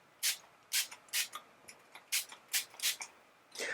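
A handheld spray bottle of water, distilled or plain, mists a trombone slide in a quiet room with a series of about eight short, crisp hissing bursts in an uneven rhythm, close and clear, with no talking.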